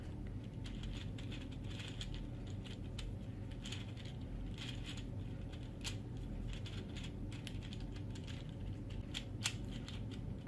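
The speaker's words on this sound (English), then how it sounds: "you can turn the opposite corners and everything on the puzzle will move" A Meffert's David Gear Cube (V2) puzzle is twisted in the hands, giving a steady run of close, dense plastic clicks and ratcheting gear ticks with no talk.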